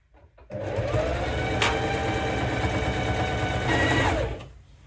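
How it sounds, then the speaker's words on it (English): Sewing machine stitching steadily around the edges of fabric for a sewing machine cover, a close, continuous motor whir with rapid needle rhythm for about four seconds, starting and stopping cleanly. "now I'm going to go to the machine and just sew all around these edges"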